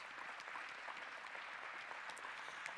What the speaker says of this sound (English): let's have a round of applause for his success.